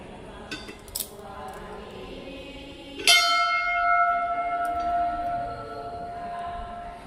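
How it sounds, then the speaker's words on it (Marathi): A single bright metal temple bell at a Shiva temple in Valsad, India, is struck once, its clear tone ringing out and slowly fading over several seconds, with a few faint clinks before it. "घंटा वाजूया"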